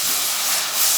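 Water hits a hot pot of Kerala fish red curry with turmeric and sizzles into a loud, steady steamy hiss that swells slightly near the end, with no one talking.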